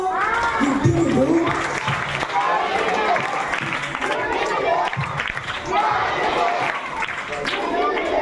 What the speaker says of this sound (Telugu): Very good, claps కొడదామా?